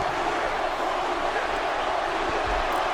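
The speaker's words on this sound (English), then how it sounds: "this crowd in Chicago is fiery hot tonight, as you can hear them" A roaring arena crowd in Chicago at a WWE 2K26 wrestling match, a dense, steady wash of cheering and noise, loud and continuous throughout with no clear breaks.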